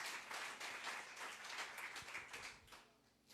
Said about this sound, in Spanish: Dale ese fuerte aplauso a Rey de Reyes y Señor de Señores